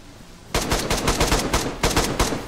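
Rapid automatic gunfire in the survival game DayZ, loud and close, firing in several quick bursts with short gaps between them.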